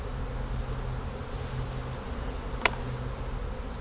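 Honey bees buzz steadily around an open hive during a long frame inspection, a close, continuous hum with one brief sharp click.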